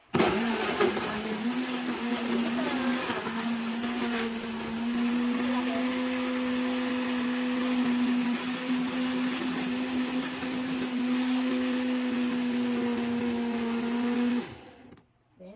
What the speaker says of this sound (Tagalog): Then, lalagyan natin sa ating blender machine.